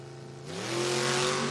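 At a footbrake drag race, a Trans Am and a GMC SUV launch off the line, engines rising sharply from idle into a loud, building roar that holds for about a second.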